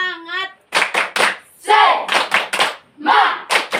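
Classroom group doing a rhythmic tepuk semangat clap, short bursts of sharp clapping alternating with chanted voices, loud and close.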